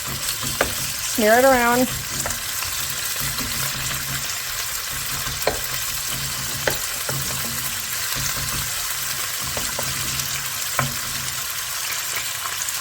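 Thin chicken pieces fry in oil on high heat with a continuous loud sizzle and crackle, broken by occasional sharp pops and scrapes, and a voice speaks briefly early on.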